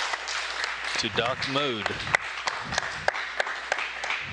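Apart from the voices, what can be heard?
applause in ISS mission control after Starliner docking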